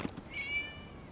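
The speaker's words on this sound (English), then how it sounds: "It was just a cat." A cat meows once in the video game Genshin Impact, a short tonal call rising then fading, fairly faint over a quiet background hum.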